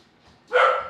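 A single loud, close dog bark bursts out sharply after a moment of near silence, with no other voices around it.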